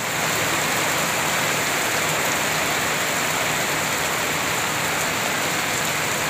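Steady, dense rain pours down without pause, a constant hiss of drops hitting surfaces close by, with no voices.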